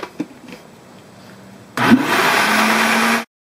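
An electric blender runs steadily for over a second, mixing all-purpose flour into batter for toad in the hole; the loud, even whir starts abruptly after a few quiet kitchen knocks and then cuts off.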